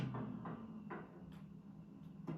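A door opens inside a farming video game, a short run of clattering, knock-like clicks and thumps repeating roughly every half second over a steady background hum.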